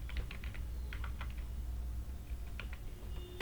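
Typing on a laptop computer keyboard while filling in entries in accounting software, a steady run of light close key clicks in quick bursts over a low background hum.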